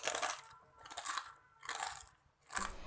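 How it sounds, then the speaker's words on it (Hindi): Crispy sabudana chila, a fried sago pancake made for fasting, is bitten and chewed up close in four distinct crunchy bursts separated by short pauses, quiet and with no talk. "मैं इसे खा के भी बता रही हूँ, आप आवाज़ सुन के समझ जाएंगे कितना ज़्यादा कुरकुरा सा है"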